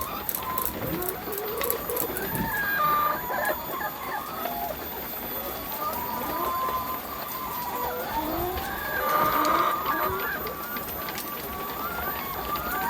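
Laying hens in a backyard coop, just fed, cluck and call in a busy overlapping flock, with rooster-like calls rising over steady rustling and movement throughout; a person talks faintly at times.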